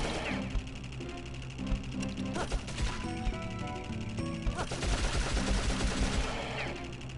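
Machine gun fire in the game Dark Cloud crackles in dense rapid bursts over loud game music, with sharp repeated shots and impacts filling the whole stretch.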